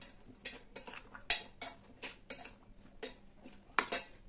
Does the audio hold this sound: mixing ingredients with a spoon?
yes